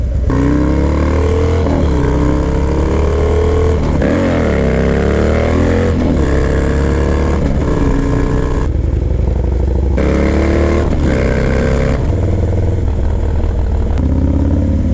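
A Harley-Davidson Low Rider S FXDLS motorcycle rides at close range, its engine loud and steady throughout, rising and falling in pitch through repeated revs and gear changes.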